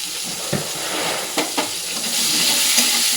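Tomato frying in a pan with salt and turmeric gives a steady sizzling hiss, broken by a few sharp scrapes and clicks of a stirring spoon against the pan.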